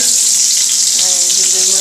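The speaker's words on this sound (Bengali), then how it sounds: "ভাজা হচ্ছে" Food sizzles in a pan in a home kitchen, giving a steady, close, bright hiss of frying that runs unbroken throughout without any voices.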